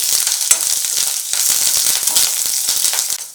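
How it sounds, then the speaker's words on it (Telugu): Curry leaves frying in hot oil, a loud, close, steady crackling sizzle with sharp pops throughout, no talking. "కరివేపాకును కూడా ఫ్రై చేసుకోవాలి"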